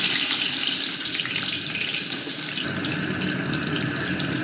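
Onions frying in hot oil in a pan for a vegetarian dish, a loud, continuous, dense sizzle and crackle heard close up, steady throughout with no talking.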